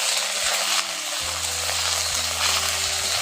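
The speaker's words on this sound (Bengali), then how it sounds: "এখন ফোড়নের সঙ্গে আদা কাঁচা লঙ্কাটা কষে নিচ্ছি।" Ginger and green chilli paste frying in hot oil with whole spices for a paneer curry, a steady close sizzle with a low hum running throughout.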